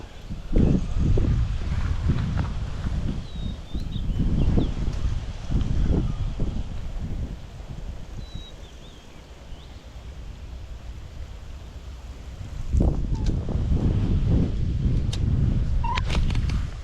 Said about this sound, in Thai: ลมโคตรแรงตอนนี้